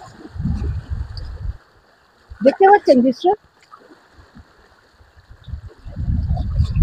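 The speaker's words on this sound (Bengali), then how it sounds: "শুনুন শুধু ঢেউয়ের শব্দ" Waves on the Ganga river at ebb tide lap and wash in low gurgling bursts at the start and end, with someone speaking briefly in between.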